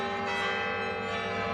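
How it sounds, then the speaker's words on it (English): Church bells of the Basilica of the Sacred Heart at the University of Notre Dame ring out in a sustained, resonant peal, a brief, loud wash of overlapping tones. "The bells at the University of Notre Dame's Basilica of the Sacred Heart at the news of the election of Pope Leo XIV."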